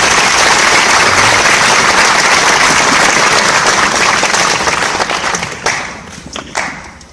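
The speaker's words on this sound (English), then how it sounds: "please give yourselves a round of applause" Loud, sustained applause from a large crowd at a film festival awards ceremony, a dense wash of clapping that thins out toward the end.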